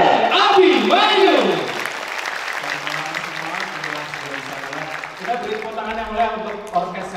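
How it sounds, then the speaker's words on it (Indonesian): Applause at an orchestra concert for a vocalist, a loud burst of clapping at first that settles into a softer patter while sustained orchestral tones and voices rise beneath it. "Hadirin, kita sambut dan tepuk tangan dengan meriah."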